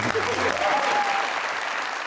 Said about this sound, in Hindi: इनके लिए जी भर के तालियां मारो।